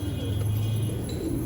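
Pigeons coo softly close by in a loft, low rounded calls that sit over faint background noise.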